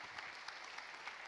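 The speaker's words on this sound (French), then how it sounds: "on peut l'applaudir" Audience applauding an award winner at the 2016 creators' challenge final, a steady, fairly distant wash of clapping with no voices over it.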